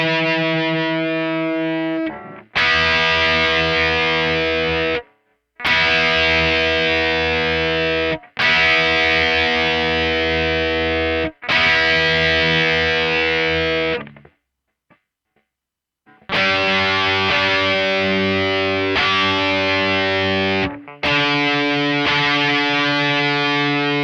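A Gibson electric guitar being tuned through a distortion effect: loud, sustained, buzzing notes rung out one after another, separated by brief silences, with no talking.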